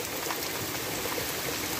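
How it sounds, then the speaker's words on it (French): Small hailstones patter densely and evenly onto a car, a constant fine crackling hiss with no voices. "Ah si, il y a de la grêle."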